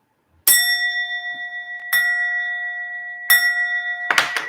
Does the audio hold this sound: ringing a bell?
yes